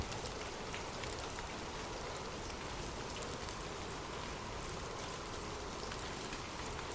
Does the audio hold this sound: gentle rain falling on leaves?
yes